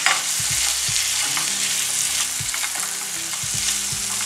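Shrimp fry in a tablespoon of hot oil, a dense, steady sizzle with bursts of spattering and occasional clinks of stirring, close and continuous with no talking.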